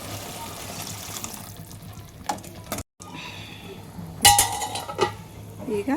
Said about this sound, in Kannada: ಈಗ ನೀರು ಹಾಕೊಳ್ಳೋಣ ರೀ.